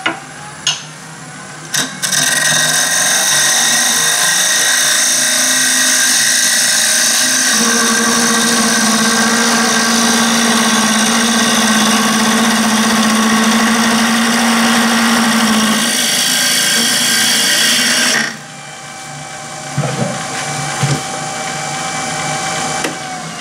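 Wood lathe turning a glued closed-form blank for a rough, oversize cut: a steady loud motor whine with broadband cutting noise, the tone dropping to a lower pitch for several seconds mid-run, then a spin-down and brief knocks near the end.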